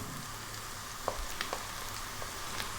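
Sliced mushrooms sizzle in a pan with onion and garlic over above-medium heat, a steady close hiss with a few small pops and crackles, no voices.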